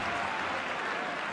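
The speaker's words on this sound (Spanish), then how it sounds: "se lleva el aplauso del público después de ese gran despliegue defensivo" Football crowd at a Cádiz CF versus Huesca league match applauding in the stadium after a defensive play, a broad, steady wash of clapping that fills the whole stretch without gaps.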